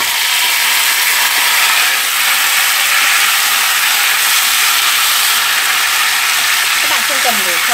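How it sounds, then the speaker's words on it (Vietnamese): Liver stir-frying with garlic in a hot pan gives a loud, steady sizzle and hiss that runs unbroken throughout, with faint clinks and a voice near the end. "thì các bạn cho gan vào xào."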